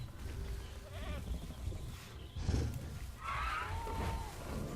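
A goat in the Jurassic World Evolution video game gives a few wavering bleats over a low rumbling game backdrop, moderately loud with no talk.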